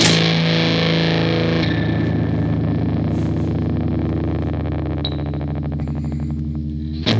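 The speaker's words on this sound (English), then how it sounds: "let me hear that distortion, Frank" A heavily fuzzed Fender Jazzmaster electric guitar sustains a thick, buzzing chord that rings on for several seconds before cutting off.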